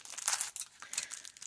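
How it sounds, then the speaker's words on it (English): A small plastic bag holding a set of double-pointed knitting needles crinkles and rustles close up in a few quick bursts, with no talking over it. "you'll get a bunch in these little plastic bag things"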